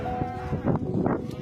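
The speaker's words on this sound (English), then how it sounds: "how about this goat whose horns got caught in electric cables?" A goat whose horns were caught in electric cables calls out once, a short, strained bleat close by that rises and wavers across the clip.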